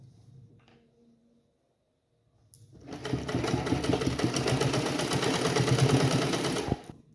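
A sewing machine stitches along a blouse collar. After a few quiet handling sounds it starts up and runs in one loud, steady, rapid whirring burst of about four seconds before stopping abruptly.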